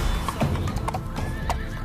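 A horse neighs loudly over steady clip-clopping hooves, part of an Omani youth radio program's opening sound, with the neigh and hoofbeats close and continuous for the whole stretch and no talking.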